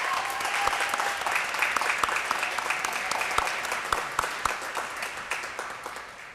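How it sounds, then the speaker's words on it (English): Applause fills a school board of education meeting as an audience claps steadily for an honoured young man, a dense crowd sound that holds strong throughout and tapers slightly toward the end. "Let's give that young man another round of applause."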